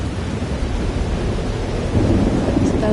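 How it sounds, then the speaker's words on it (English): Thunderstorm in the video game Life is Strange Double Exposure: steady rain and low rumbling thunder, swelling slightly louder toward the end, with no one talking. "It's a thunderstorm."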